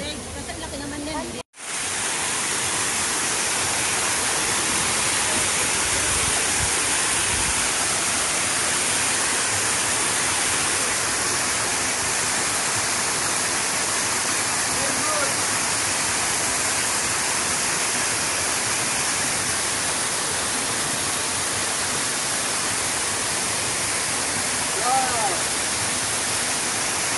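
Steady, loud rushing water, like a stream or small falls, continuous throughout with a brief dropout near the start.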